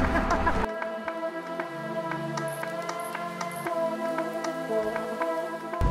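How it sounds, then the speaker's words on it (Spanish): Steady rain falls at Lake Atitlan amid volcanoes during a storm, a dense continuous patter with drips and a faint tonal hum underneath, no talking. "Ya seguramente vaya a estar lloviendo todo el rato."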